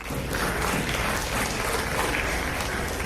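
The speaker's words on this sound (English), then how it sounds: "If you can make where your faculty is, please give them a round of applause." A graduation ceremony crowd applauding the faculty: loud, close, continuous clapping from many people, filling about three seconds without any talking.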